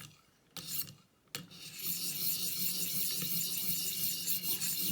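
Cruwear knife sharpened on a 600 grit stone in a ViperSharp, a couple of short scrapes then a continuous close, gritty rasping of steel over stone.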